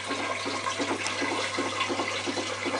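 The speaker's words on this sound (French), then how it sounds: "le petit bélier est en train de pomper. Remonte l'eau au sommet de ce piton rocheux sur un château d'eau." A model hydraulic ram pump pushes water up to a water tower on top of a rocky peak. Water rushes and gurgles steadily throughout, with faint rhythmic pulses of the ram's beat beneath a low hum.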